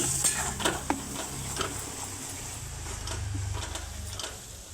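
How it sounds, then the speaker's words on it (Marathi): Maida flour being stirred and roasted in a pan for daraba, a traditional Diwali sweet, giving soft scraping stirs with a few light ticks and a faint sizzle, steady and close with no talking. "आता आपण हा मैदा जो आहे ना तो इथे सर्व असा टाकून देऊ मैदा व्यवस्थित असा भाजायचा आहे"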